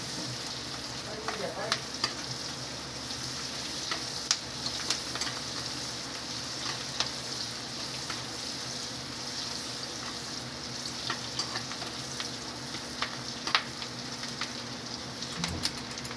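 Shrimp, onion and hotdog frying in a pan, with a steady crackling sizzle that runs the whole way through and a scattering of louder pops and scrapes.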